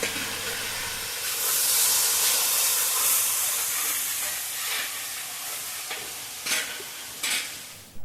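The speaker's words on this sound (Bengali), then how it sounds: "এখন কড়াইতে দিয়ে দিলাম" Yardlong beans (borboti) frying in a kadai for a large home feast, a loud continuous sizzle and steamy hiss with stirring scrapes and a few sharp bursts.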